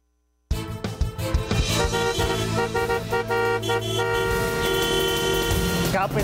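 Vehicle horns honk in a busy street after a brief silence, several overlapping toots and a long held blast over steady traffic noise, loud and near.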